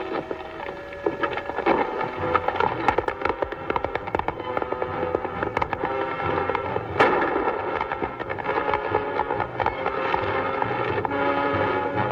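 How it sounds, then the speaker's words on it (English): Gunfire in a classic John Wayne western, a dense run of sharp cracks and bangs layered over music and commotion, with a heavy burst around the middle and steady action noise throughout. "Do better shooting than that."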